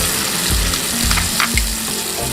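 Ginger garlic paste sizzles and fries in hot oil for chicken korma, with a close, continuous crackle and a few stirring scrapes.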